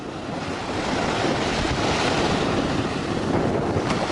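Ocean waves wash in at the water's edge with a broad, continuous roar mixed with wind buffeting the microphone, loud and steady with no talking.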